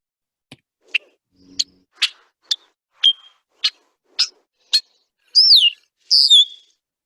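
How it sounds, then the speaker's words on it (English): A male red-winged blackbird gives a series of about ten sharp, short alert calls, evenly spaced chips ending in two longer, slurred notes, heard close and clear against silence. "There's 10 different call types from a male red-winged blackbird."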